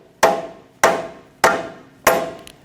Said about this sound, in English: Take another rubber mallet and I'm just going to give it some taps